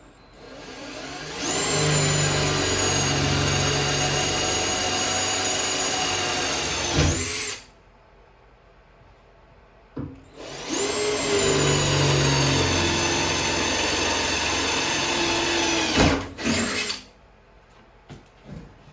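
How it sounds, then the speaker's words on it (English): A power drill drilling pilot holes in metal on a John Deere 400 runs in two long, steady bursts of about six seconds each, whining loudly and close by, with a short quiet pause between them. "I'm going to just drill a pilot hole for now."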